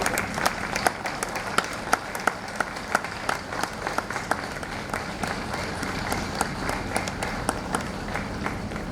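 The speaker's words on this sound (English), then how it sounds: "let's give a round of applause for Mr. Segun Osutokun." Applause from an audience at a law week opening ceremony welcoming a speaker to the podium: steady, dense clapping across the whole stretch with sharper individual claps standing out near the front, no speech over it.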